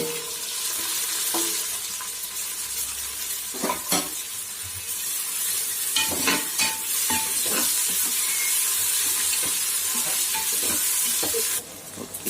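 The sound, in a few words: tomato frying with onion for duck curry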